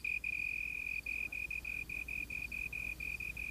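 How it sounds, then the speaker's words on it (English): A slender tree cricket chirps in a rapid, regular train of short high-pitched pulses, steady and fairly close, with no voices. "magnifying the sound made by the slender tree cricket that shapes them"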